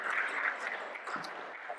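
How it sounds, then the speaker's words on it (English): Audience applause at a public policy school launch event as a guest comes up on stage, a moderate, even patter of clapping with a faint voice underneath. "Applaud away"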